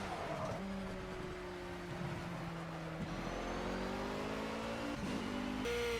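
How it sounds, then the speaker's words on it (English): Ford V8 supercar racing in the Project Cars video game, its engine revving up and shifting through gears in rising whines, loud and continuous with no voices. "here we've got the Ford V8 supercar."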